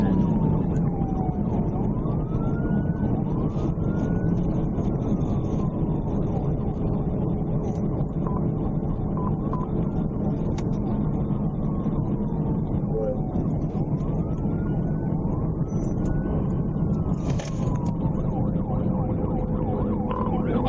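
A police car siren wails in repeated rising and falling sweeps as the cruiser chases an unlicensed motorcycle at high speed, heard steadily over road and engine noise.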